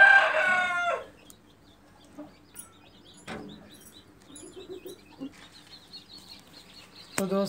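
Chickens cluck in short, close bursts during beak trimming with a nail cutter, including one loud squawking call at the start and scattered soft clucks and rustles afterward.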